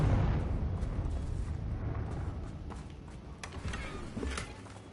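Confringo blast spell from Hogwarts Legacy, a rumbling explosive boom that rolls on with sustained low crackling and debris-like bursts, loud at first then tapering, with no talk over it.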